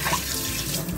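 Tap water runs steadily into a sink as freshly picked garden cucumbers are washed for kosher pickles, a continuous close splashing stream with no talk.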